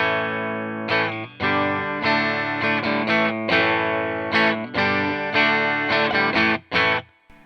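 Electric guitar played with a clean tone, a Wampler Moxie overdrive pedal switched off, strumming chords and picked notes in a steady, loud phrase with brief pauses between strums and no talking.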